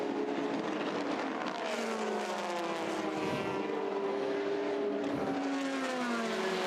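Race cars at Le Mans, overall leaders lapping GT Pro cars, engines droning and shifting pitch as several machines sweep past in a continuous, moderately loud roar.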